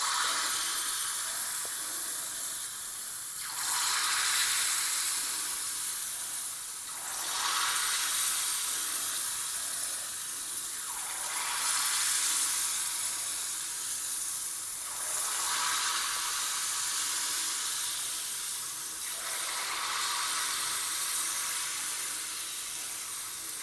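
Unniyappam batter made with rice flour sizzling in hot oil: a steady bubbling hiss that swells and eases in slow waves, close and fairly loud, with no voices.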